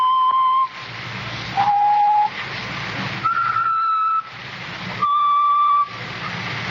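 A slow whistled tune of four long held notes at shifting pitches, over a low rumbling background.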